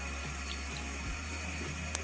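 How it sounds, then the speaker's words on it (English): A faint, steady stream of tap water fills a hamster's water dish at a sink, a soft continuous rush with no talking. "bring this to the sink, throw out the old water, scrub it down a bit, and fill it up with water"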